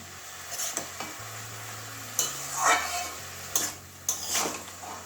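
A spoon stirs bottle gourd curry in a watery pan, giving several distinct scrapes and clunks spaced a second or so apart, close and moderately loud over a soft sizzle. A steady low hum runs underneath.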